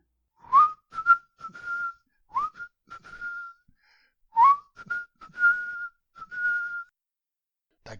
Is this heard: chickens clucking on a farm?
no